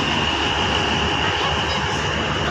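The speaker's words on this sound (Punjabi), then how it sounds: "ਇੱਕ ਟ੍ਰੇਨ ਤਾਂ ਟੱਪ ਗਈ ਹੁਣ ਦੂਜੀ ਟ੍ਰੇਨ ਆਊਗੀ" At a railway station a train rumbles past close by, a continuous broadband roar with steady wheel and carriage noise throughout, no pauses.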